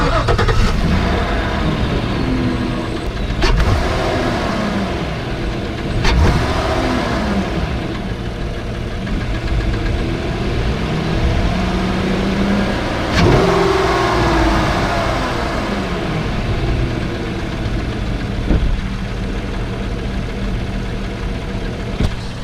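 A Chevy Silverado engine with its stock air intake runs steadily at fairly low volume, a smooth, quiet hum with a few mild revs rising and falling.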